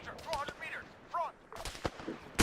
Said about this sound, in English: I'm hearing a lot more gunshots